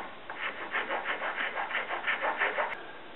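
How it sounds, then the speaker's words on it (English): Hand rasp filing the solid wood body of a homemade turkey box call, a steady run of about a dozen rhythmic rasping strokes, close and fairly loud with no talk. "I'm going to go ahead and use a rasp on it."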